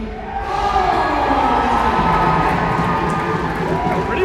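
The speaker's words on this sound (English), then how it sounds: "Pretty big crowd." A big crowd at a college hockey game between Florida and UCF cheers and shouts loudly and steadily, a dense, sustained roar of many voices.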